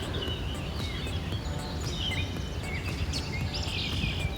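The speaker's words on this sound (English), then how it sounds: "Listen to all of this bird singing." Birds singing in a foggy park: scattered chirps and whistling calls over a steady low background hum, fairly faint and somewhat distant, with no talking.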